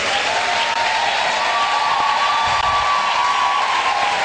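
A large church congregation applauds and cheers loudly, a dense, continuous wash of clapping with a high sustained whistle or voice riding over it.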